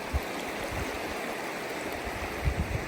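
A mountain stream in Jasper National Park's Tonquin Valley rushes beneath a bridge, a steady broadband wash with a few low thumps and no voices.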